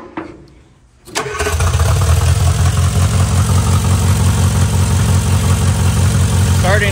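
An Austin-Healey Sprite after starter repair cranks briefly, catches and settles into a loud, steady idle close by, its even low throb running without a break to the end.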